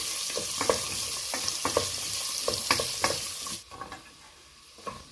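Shallots sautéing in a hot pan hiss with a dense sizzle under quick repeated stirring scrapes, close and fairly loud, then the sizzle drops off abruptly and only a few soft utensil taps remain, with no voices.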